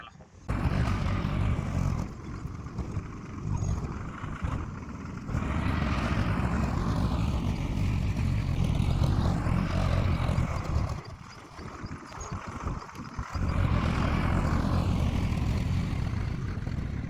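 A farm tractor engine runs loud and close with a continuous rough rumble, its pitch rising and falling in slow sweeps as the revs change, with short dips in between.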